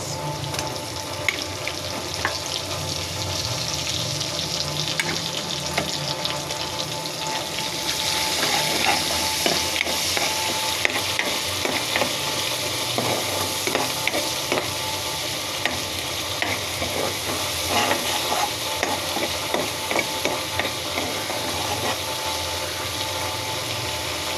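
Fried small shrimp sizzling in a pan with a ginger, garlic and onion spice paste, a continuous crackling fry with scattered pops and occasional utensil scrapes.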